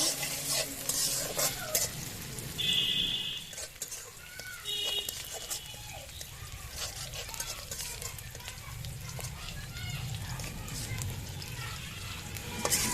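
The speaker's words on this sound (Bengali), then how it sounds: "এবার পেঁয়াজ আর মরিচ খুব ভালো করে ভেজে নিব।" Chopped onions and green chilies frying in oil in a pan, a steady sizzle with intermittent scraping and stirring of the spatula throughout, close and continuous.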